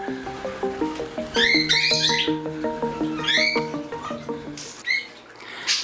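Bursts of chirping and squawking from Bubbles, a 12-week-old cockatiel, in a bird room with the rest of the flock. Close and lively, with tonal warbling beneath the sharper calls.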